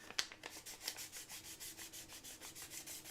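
A painted arm piece is sanded by hand with quick, even back-and-forth rubbing strokes, a steady rhythmic scratch repeating about five times a second, close and clear with no voices.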